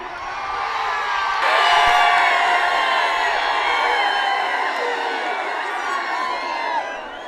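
At a bullock cart race semi-final at Pusegaon, a large outdoor crowd cheers and whoops continuously, with shouts and yells rising and falling across the whole span.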